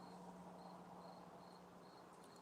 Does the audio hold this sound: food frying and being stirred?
no